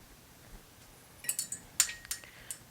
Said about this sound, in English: let me get a few ice cubes